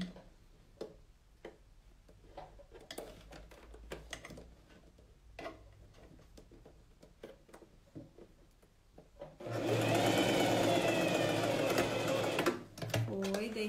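A sewing machine stitches a coat, first with quiet ticking and handling clicks, then a loud, steady motor run of about three seconds close by before it stops.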